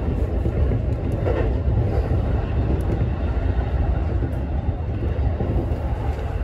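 Keihin-Tohoku Line commuter train running between Higashi-Kanagawa and Tamachi, a steady low rumble and rolling roar of wheels on rails heard continuously from the cab, with no voices.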